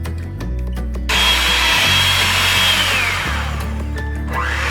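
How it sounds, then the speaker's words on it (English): An electric mixer with a whisk attachment whips dalgona coffee, making a steady, loud, close motor whir with a high whine that shifts in pitch as it runs, and nobody speaks. "We used a whisk attachment on our electric mixer."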